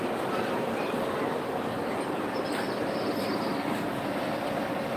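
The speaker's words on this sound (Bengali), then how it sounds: "ট্রেনটি ছাড়বে।" A train standing at a station just before departure gives off a loud, steady rumble and broadband hiss that fill the whole stretch without a break.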